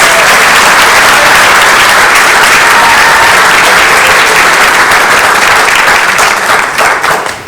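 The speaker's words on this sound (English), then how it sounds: "Let's give him a round of applause" A room full of people at a city council meeting gives sustained applause to an award recipient, loud and continuous clapping that holds steady before tapering slightly at the end.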